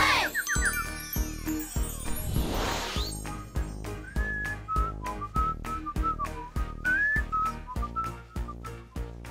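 Someone whistling a simple wavering tune over a steady, rhythmic plucked musical beat.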